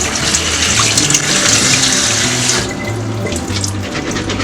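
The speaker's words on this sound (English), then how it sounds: "you're just gonna rinse the cashews thoroughly" Steady running tap water gushing into a sink, splashing over soaked cashews as they are rinsed in a kitchen; a continuous, close, fairly loud rush that thins slightly partway through.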